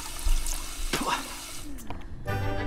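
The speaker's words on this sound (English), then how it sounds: "He's washing his hands, he's brushing his teeth, he's doing everything he needs to do for his work." Running water from a sink as a Sims 4 character washes hands in the video game, a soft steady splashing under a brief voice.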